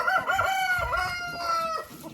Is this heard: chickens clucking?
yes